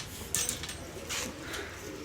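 A shah-eyed, black-beaked pigeon coos softly nearby, a few low throaty calls over quiet background rustling, with no talking.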